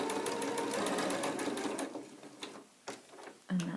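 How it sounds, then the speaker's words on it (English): A sewing machine stitches in reverse on the seam of a fabric tote bag, a rapid mechanical whirr for about two seconds, then fades into a few short bursts and clicks. "I'm going to do a reverse stitch just to make sure that that stitching is nice and secure"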